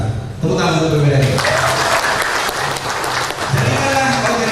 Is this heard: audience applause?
yes